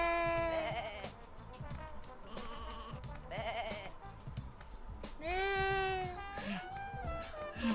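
Cartoon sheep bleating in the video game Looney Tunes Sheep Raider, several wavering bleats spread across the stretch with the loudest, longest cries near the end, over game background noise.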